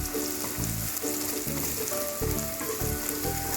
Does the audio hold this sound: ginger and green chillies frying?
yes